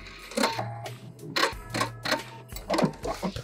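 Sewing machine backstitching a vinyl bag seam, close and clattering in quick short runs of stitches separated by brief pauses, with a low motor hum underneath.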